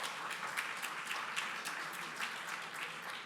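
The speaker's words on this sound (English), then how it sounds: "perhaps a round of applause" Audience at an awards ceremony in Delhi giving a round of applause, a steady wash of many hands clapping, faint and distant-sounding.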